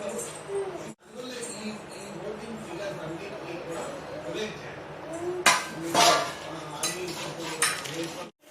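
Room-temperature butter stirred into cake batter in a bowl, a spoon scraping and clinking against the sides in continuous strokes with a few sharper knocks, while someone talks throughout.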